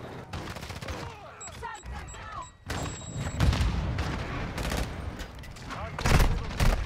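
Shotgun blasts and gunfire in Call of Duty Warzone, loud bursty booms repeating through a dense, chaotic mix, with a voice talking partly under the shooting.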